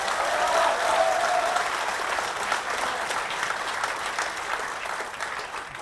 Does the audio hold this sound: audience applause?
yes